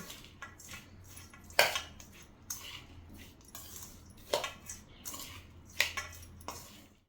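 Dry fruit ladoo mixture with cardamom and nutmeg powder being stirred in a bowl, a spoon scraping and clinking against the dish in irregular bursts with a few sharp knocks, close and alone.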